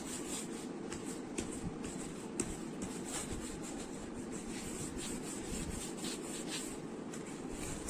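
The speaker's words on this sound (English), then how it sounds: "burnish this down with the help of your bone folder" Bone folder burnishing white cardstock, a soft, steady rubbing and scuffing with small ticks, faint and close, with no talking.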